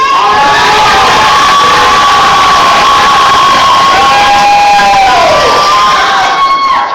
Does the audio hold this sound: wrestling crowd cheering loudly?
yes